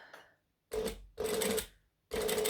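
Sewing machine running in three short bursts as it stitches up the sides of a fabric piece held with swivel clips, each burst a steady mechanical whir separated by brief pauses, close and clear with no talking.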